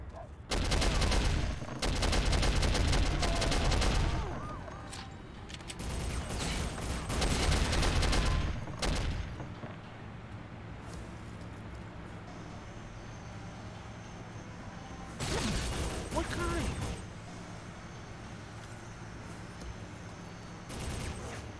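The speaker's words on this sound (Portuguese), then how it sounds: "tá vindo tiro da onde?" Gunfire from the video game Soldier of Fortune comes in loud, dense bursts of rapid shots near the start and middle, with a shorter volley later and quieter background between.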